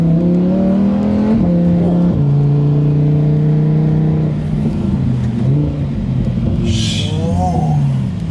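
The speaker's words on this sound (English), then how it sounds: "my man's trying to drift an all-wheel drive car here" A 2020 Lamborghini Huracan Evo, all-wheel drive, drifting with its engine revving loud and close, the pitch dropping at shifts, then holding and sliding; a sharp tire squeal near the end.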